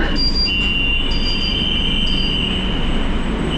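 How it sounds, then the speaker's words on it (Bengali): A Kolkata Metro train pulling into a station, with a loud continuous rumble of wheels on rails and high metallic squeals ringing over it, close and steady throughout. "চারটে বেজে বারো মিনিটে আমাদের মেট্রোটা পৌঁছে গেল কবি সুভাষে"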